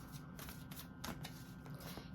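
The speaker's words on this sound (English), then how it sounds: "Shuffle up the cards." Tarot cards being shuffled by hand, a quiet run of soft riffling and slapping bursts in an irregular rhythm, close up and faint, with no talking over it.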